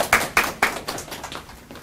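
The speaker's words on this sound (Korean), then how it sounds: "이제 박수 부탁드리겠습니다." A small audience claps for a speaker introduced to present a New Zealand working holiday talk, a few distinct claps at first that quickly thin into scattered, fading applause.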